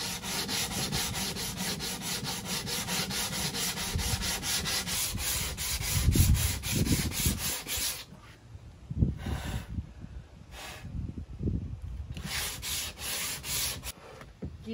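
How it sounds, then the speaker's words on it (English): Hand-sanding wood for a sleeping platform in a Toyota 4Runner: quick, steady back-and-forth rasping strokes, then a slower series of separate scrubbing passes with short pauses between them. "Sand a little bit"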